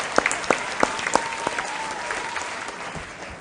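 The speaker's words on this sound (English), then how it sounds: "A round of applause to our contestants." An audience applauds contestants at the National Sharks Quiz Championship with a scattered burst of individual claps that thins out and fades within a few seconds.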